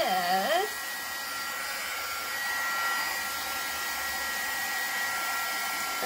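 A hair dryer blows steadily over white paint on an art journal page, a continuous close whirring hum that starts after a brief clatter and holds evenly to the end.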